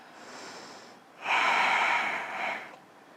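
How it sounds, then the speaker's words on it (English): Deep breaths in and out through the nose, a soft inhale followed by a louder, longer airy exhale, close and alone. "2 more nice deep breaths here."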